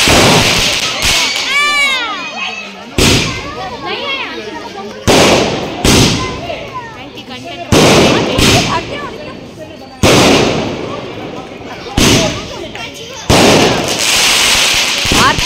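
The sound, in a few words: fireworks and firecrackers exploding at an apartment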